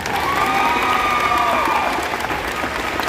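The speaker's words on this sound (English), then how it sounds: "You can applaud for him." Audience applause at a school band festival, a steady wash of dense clapping from a large crowd filling the whole span, with a few faint cheers mixed in.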